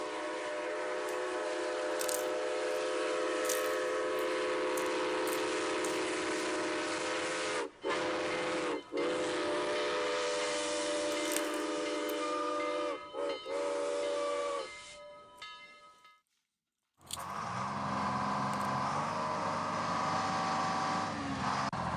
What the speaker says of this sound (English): The train coming down the track.